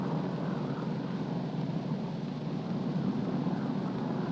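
Engine of a P-40 Flying Tiger fighter plane in flight, a steady, dense roaring drone without letup, muffled and noisy like an old film soundtrack.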